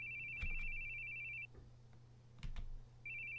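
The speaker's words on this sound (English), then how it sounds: "I hate hearing phones ring." A telephone rings in short electronic bursts within a video game scene, one long ring followed by a pause and another starting, with a few soft thuds and background hum between rings and no talking.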